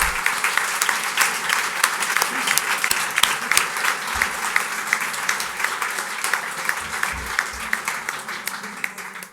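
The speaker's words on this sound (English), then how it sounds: "please give our candidates a round of applause for being here" A crowd at a League of Women Voters candidate forum applauds steadily, with dense, loud clapping that fills the room continuously for several seconds.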